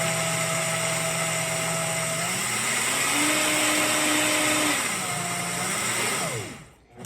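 A kitchen grinder whirs loudly and continuously as it grinds ingredients for salmon treats into flour, its motor pitch rising and dipping slightly before it spins down and stops.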